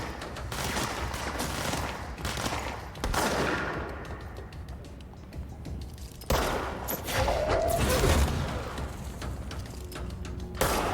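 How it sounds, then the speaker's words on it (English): Rockets and gunfire in the video game Control, with loud overlapping booming blasts and bursts that swell and fade across the clip, heavy low rumble and a sharp new volley near the middle. "those are rockets"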